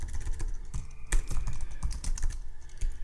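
Quick, uneven keystrokes clatter on a computer keyboard, a close and continuous run of typing with small pauses between bursts.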